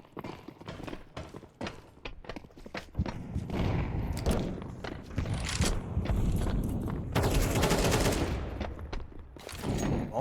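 Pistol-round gunfire in a Counter-Strike match on the Nuke map at a professional ESL Challenger event, heard as scattered sharp shots and clattering footsteps that build into a dense, busy exchange of fire.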